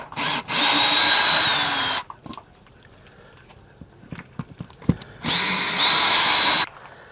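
Power drill backing screws out of a lock, two loud close bursts of high whining spin separated by a few seconds of quiet handling clatter.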